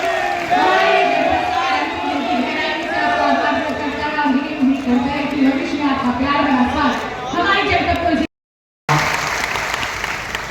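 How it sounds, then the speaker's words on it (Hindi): Loud, sustained applause from a large crowd at a public development event in Uttar Pradesh, welcoming Vijay Bhai, with cheering and voices mixed in, cut by a brief gap near the end before the clapping resumes. "परम आदरणीय यशस्वी माननीय विजय भाई जोरदार तालियों के साथ अभिनंदन करते हैं"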